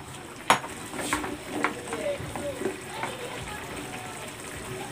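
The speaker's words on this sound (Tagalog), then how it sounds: "Ayan, kumukulo na." A pot of water on the stove comes to a boil just before squash is added, giving a faint steady bubbling hiss broken by a few sharp clinks of a utensil against the pot.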